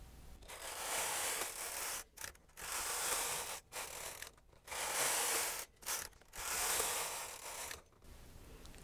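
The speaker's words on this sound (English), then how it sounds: "I'm going to knit 8 rows again" Carriage of a Brother 260 knitting machine swept back and forth across the needle bed knitting rows, a series of long rasping, rubbing passes separated by short pauses, close and fairly quiet, with no voices.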